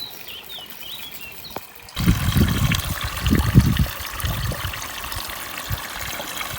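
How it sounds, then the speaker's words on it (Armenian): Water from a garden hose trickles and splashes into a pit dug around grapevines; a steady, fairly close watery rush starts abruptly after a quiet stretch with faint birdsong. "Ջրի շլանգը բերել եմ այս մի կուրը վազների որդքումը դրել"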